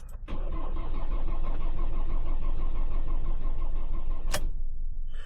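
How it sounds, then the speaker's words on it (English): A car engine cranks steadily on a low battery without catching, a continuous droning churn lasting several seconds, close up, ending in a brief sharp click before it stops. "it cranks but won't start"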